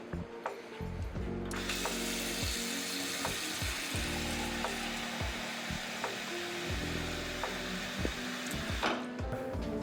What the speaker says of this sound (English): grab the pot, go over, fill the pot up with water